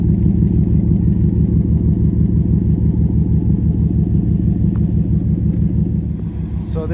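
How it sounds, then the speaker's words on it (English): A misfiring V6 engine idling in a 2000 Chevrolet Silverado, with a close, loud, steady low rumble and a rapid pulsing beat that holds for several seconds before easing slightly near the end. "So this is a V6. I bought it as a V6. It's misfiring."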